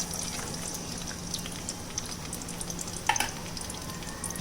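Chopped ginger and garlic sizzle in hot refined oil, a steady even hiss throughout with a brief clink of a utensil near the end.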